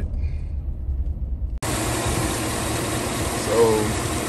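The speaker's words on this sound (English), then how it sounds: "It should not be running like that. This is a misfire on cylinder 7" A 2007 Chevrolet Tahoe engine idles rough with a cylinder 7 misfire from a collapsed lifter, a steady low rumble with uneven pulsing, close up, after a brief cut of quieter background hum.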